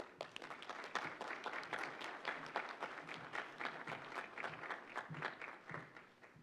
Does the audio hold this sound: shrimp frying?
no